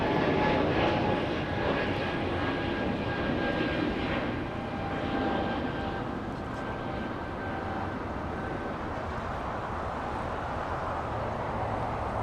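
A Cathay Pacific airliner taxis on a taxiway at Los Angeles International Airport, its jet engines producing a loud, steady roar and whine that holds throughout.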